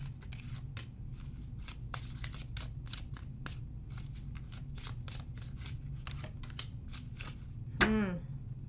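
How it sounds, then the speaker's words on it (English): A deck of tarot-style cards being shuffled, a steady run of soft riffling flutters over a low room hum, ending with a brief louder slap and swishing sweep. "I'm going to pull a couple cards here from this deck as well"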